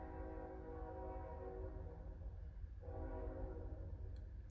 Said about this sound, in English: Let's ignore the train.